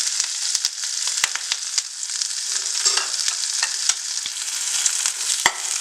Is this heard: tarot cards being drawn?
no